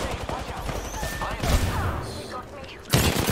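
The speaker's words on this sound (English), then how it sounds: "Oh, I'm getting shot. Some blockers shooting at me." Video game gunfire from attacking players, bursts of shots crackling over the dense mix, with a sharp loud impact near the end; a player talks over much of it.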